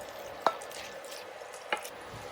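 Halloumi frying in a tomato and chilli sauce in a pan, a soft steady sizzle at low level, broken by two sharp clinks of a utensil against the pan.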